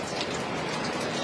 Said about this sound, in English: Well, we're still getting pelted with rain.